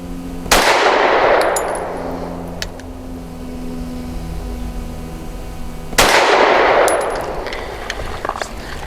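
Two sharp, loud shots from a Walther PDP compact pistol with a 5-inch barrel, spaced about five seconds apart, each cracking with a ringing metallic decay outdoors on a range, with no talk.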